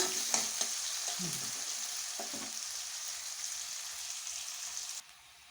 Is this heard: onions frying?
yes